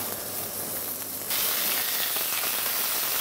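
Havelländer Wagyu beef sears in hot olive oil in a pan, giving a continuous close sizzle that jumps louder partway through as more meat hits the oil.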